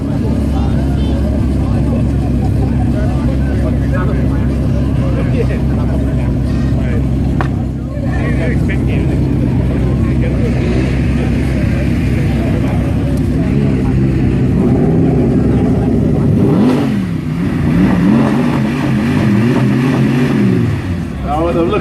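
The carbon-fibre-bodied Zenvo supercar drives off at the Goodwood Festival of Speed with a loud, sustained engine roar and rising revs near the end, under continuous crowd noise and a commentator talking.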